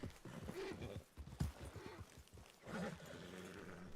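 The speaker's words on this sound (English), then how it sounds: "please rein in your horse and pull up" A horse in a western role-play video game clip-clops at a walk, steady muffled hoof beats close by with a brief snort or whinny, fairly quiet.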